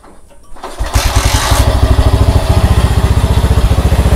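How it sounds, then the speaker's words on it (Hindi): A motorcycle engine fitted with LED lights and no battery is cranked and catches, then settles into a steady, close, loud rhythmic idle. "अब बाइक को स्टार्ट करके देखते हैं इसमें काम कर रहा है कि नहीं"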